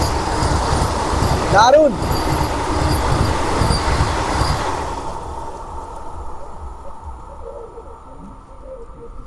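A train rolls through a railway station on the New Jalpaiguri to Tiruchirapalli Amrit Bharat Express route, with loud rumble, a brief high wheel squeal near the start, then fading away while a voice speaks briefly.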